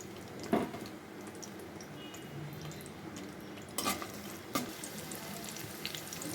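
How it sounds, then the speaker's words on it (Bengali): Cinnamon, cardamom and a bay leaf fry in mustard oil, giving a soft, steady sizzle at low level, punctuated by a few sharp clinks and stirring scrapes. "এটা দারচিনি, 3টা এলাচ, একটা তেজপাতা একটু ভেজে নেব।"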